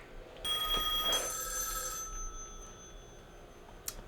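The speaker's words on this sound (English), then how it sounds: "Answer the phone." Telephone ringing in the 1974 horror film Black Christmas, a bright electric bell trill sounding for about a second and a half, then a second short burst, fairly loud with no talking.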